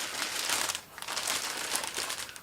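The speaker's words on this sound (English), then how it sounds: "Getting into the bag is relatively straightforward with a simple enough nick to get into the heavyweight and slightly oversized plastic bag." A heavyweight, slightly oversized plastic bag is nicked open and handled, giving a steady close run of loud crinkling and crumpling with a brief lull partway through, no voices.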